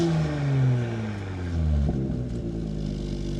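An Audi B9.5 RS5 fitted with a Milltek catback exhaust revs up, its engine note rising and falling in loud, close bursts with no talk over it.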